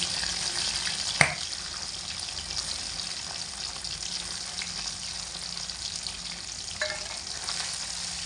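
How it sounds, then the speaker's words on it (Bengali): Steady sizzling of egg pieces frying in hot oil over low heat, constant and fairly loud, with a sharp clink near the start and a faint scrape later. "গরম তেলের মধ্যে এবার ডিমের এই পিসগুলোকে দিয়ে দেব দিয়ে হালকা আঁচে রেখে একটু ভেজে নেব"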